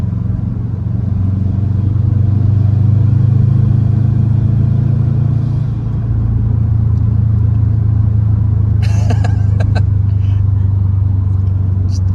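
A 2010 Subaru STI in sport mode, tuned while losing fuel pressure, gives a steady, close engine rumble on and off the throttle, dipping briefly midway, with a short burst of clatter near the end.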